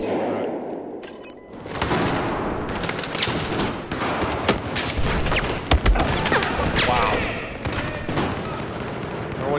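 Dense video-game gunfire in a last-stand battle map: rapid bursts and volleys crackle almost continuously, close and loud, with heavy thuds mixed in and voices speaking now and then over the shooting.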